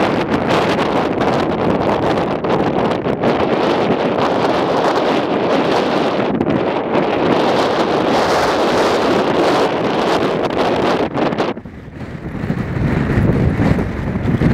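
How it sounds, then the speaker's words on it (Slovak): Strong wind roars and buffets the microphone almost continuously at a muddy housing construction site in Nitra, Slovakia, with a brief lull near the end before gusting up again. "Strašne fúka vietor."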